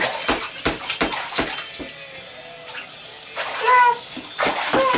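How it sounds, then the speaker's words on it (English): A small child splashes bathwater in a bathtub, choppy slaps and sloshes coming in bursts, with a voice chiming in at the end. "I'm gonna splash you."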